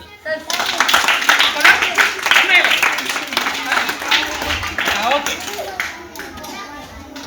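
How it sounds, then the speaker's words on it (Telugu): At a community devotional event, an audience claps for a group of young boys. Brisk, close clapping runs for several seconds under children's voices and adult chatter, then tapers off. "తమ్ముళ్ళకు ఒకసారి క్లాప్స్."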